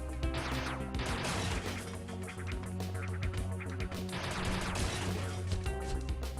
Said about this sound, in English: Yes, there are explosions. Mechanical enemies.